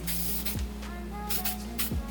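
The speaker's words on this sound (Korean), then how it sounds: "가볍게 스프레이 뿌려줍니다" Short hissing bursts of hairspray, several quick puffs close by over a steady background hum.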